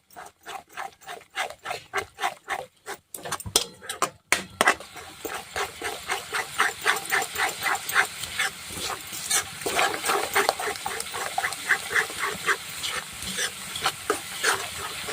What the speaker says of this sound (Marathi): आता ही सुद्धा छान अशी तेलामध्ये छान चार ते पाच मिनिट छान भाजून घ्यायची